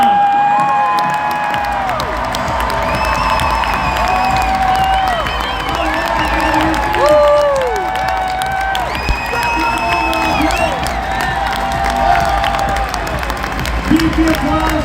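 A fan crowd at the Anaheim Ducks 2024 Summer Flock Party cheers, whoops and claps steadily throughout, with loud amplified voices and music-like tones ringing over the sustained roar.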